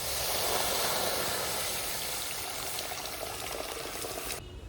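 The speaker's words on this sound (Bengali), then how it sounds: "এই যে ডাল সেদ্ধ করার জন্য কড়াইয়ে দিয়ে দিচ্ছি পরিমাণ মতো একটু জল।" Water poured into a kadai to boil moong dal, a steady loud hissing splash of liquid filling the pan that tails off at the end.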